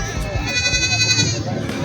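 A native village goat bleats at a goat market in Parbhani district, with its wavering cry heard close by over steady talking and crowd noise.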